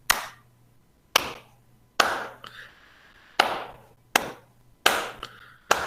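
Single pair of hands claps in a deliberate repeated sequence during a design class demonstration: six sharp, close claps separated by short pauses, each ringing briefly in a quiet room, with no talking.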